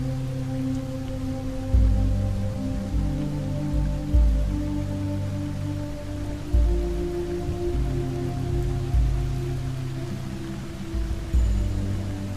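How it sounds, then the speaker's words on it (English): Steady rain pours down onto a large canopy overhead, a continuous dense wash of patter with occasional heavier splashes and a low background hum. "watching the rain pour down outside it"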